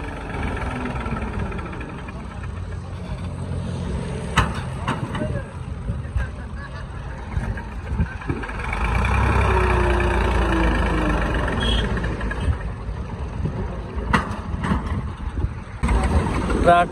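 A tractor engine runs steadily while the tractor, pulling a fully loaded trolley, is stuck in a river; the low rumble swells louder midway, with voices talking over it throughout.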